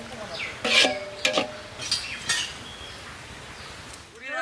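Beef intestine curry being stirred in a pot, with a few short scraping and clinking strokes of a spoon against the metal over a faint sizzle, then quieter near the end.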